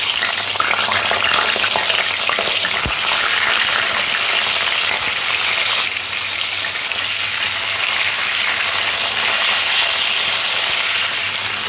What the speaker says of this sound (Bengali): তেলটা খুব ভালো গরম হয়ে যাওয়ার পরে পটলগুলো তেলের মধ্যে দিয়ে ভেজে নেব।